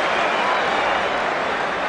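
Rugby stadium crowd roaring at the 2003 World Cup quarter-final between France and Ireland in Melbourne, a dense, steady wash of cheering and applause that holds loud throughout without a break.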